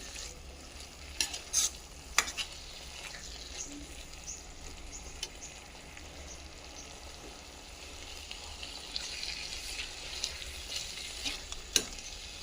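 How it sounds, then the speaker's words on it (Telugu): A cabbage and tomato curry is stirred in a pan with coriander and spice powder, giving a faint, steady sizzle with scattered light scrapes and taps of a spoon against the pan. "కర్రీని కలబెట్టుకోవాలండి ఇలానే ఒక రెండు నిమిషాలు ఇలా కలుపుకున్న తర్వాత స్టవ్ ఆఫ్ చేసుకోవాలి"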